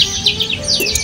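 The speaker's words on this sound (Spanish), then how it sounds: "estoy en el medio literal de un parque donde los pájaros están cantando, silbando" Birds chirp and whistle in a city park, a busy layer of short, bright calls repeating throughout over a low background rumble, with no voices.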